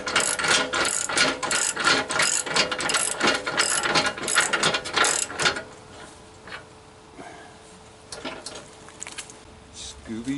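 Ratcheting wrench clicks while tightening a winch mount bolt on a CF Moto 400, a busy run of rapid metallic clicks for about five seconds, then quieter intermittent clicks and handling.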